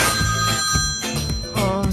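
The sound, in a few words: telephone ringing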